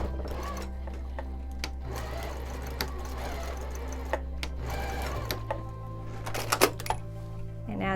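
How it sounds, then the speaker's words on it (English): A sewing machine stitches the fabric ends of a scrunchie together, giving a fast mechanical whirr with short sharp clicks. The sound stops and starts as the fabric is sewn back and forth. "I'm going to sit down at my sewing machine and I'm going to sew those ends together"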